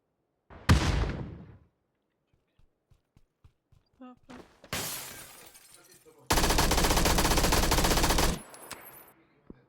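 Video game gunfire: a short opening burst, scattered single shots, then a longer sustained automatic volley, loud and close, with a voice speaking between bursts.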